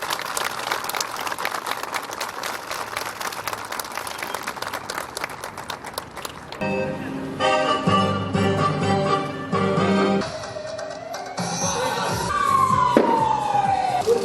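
Fire engine sirens wail at an Ankara fire brigade anniversary celebration, rising and falling over crowd noise and applause, with a loud sweeping tone in the final seconds.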